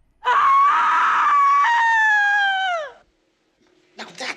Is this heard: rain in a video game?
no